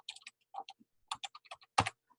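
Typing on a computer keyboard: a quick, irregular run of crisp, close key clicks in bursts, ending with a louder stroke, with no talking.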